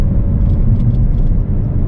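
Ford Focus ST engine pulling at open throttle in fourth gear, a loud, steady low rumble with a faint rattle running unbroken throughout.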